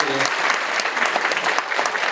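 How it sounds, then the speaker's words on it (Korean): An audience at a Thanksgiving dinner gathering welcomes a guest with loud, sustained applause, a dense, even roar of many hands clapping close by, with voices mixed in. "큰 박수 한번 환영해 주시겠습니다"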